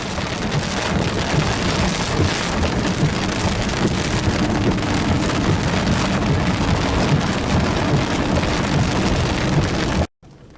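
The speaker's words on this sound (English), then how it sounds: "After a busy evening of storm chasing, it was a rainy drive back home." Steady, dense rain pours on a vehicle during a drive home after storm chasing, a loud continuous wash with no voices, cutting off abruptly at the end.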